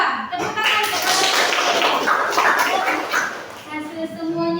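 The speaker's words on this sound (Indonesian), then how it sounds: "Tepuk tangan kepada" Classroom applause for a student group: a burst of mixed, uneven clapping from children with voices chattering and calling out over it throughout, fairly close and lively.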